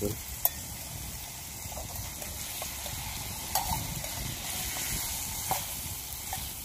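Tomatoes frying in a pan over a village cooking fire, a steady low sizzle with a few sharp clinks of a utensil against the pan, close and without talk.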